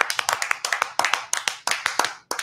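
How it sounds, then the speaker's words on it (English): A small audience claps for the Orioles bullpen, a sparse burst of distinct hand claps in uneven rhythm, fairly close, with a brief pause near the end. "Can I get a round of applause for our bullpen?"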